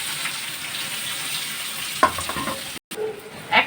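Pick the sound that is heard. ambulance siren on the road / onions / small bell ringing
onions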